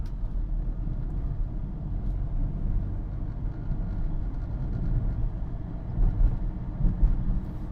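Low steady rumble of a car engine on a Chennai street as the driver shifts from second to third gear, a constant drone with slight swells and no speech.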